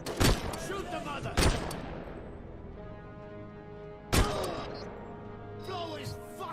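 Several sharp, loud gunshots crack out one at a time, spaced a second or more apart, each leaving a ringing decay, while voices and background sound carry on between them.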